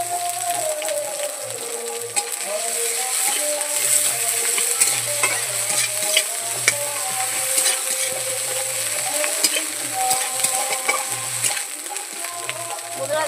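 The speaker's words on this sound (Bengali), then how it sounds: "পাচ্ছেন পেঁয়াজ আদা রসুন ভাজা ভাজা হয়ে গেছে" Chopped onion with garlic and ginger paste frying in a pan for an eggplant bharta, crackling briskly and steadily up close, with occasional scrapes of stirring.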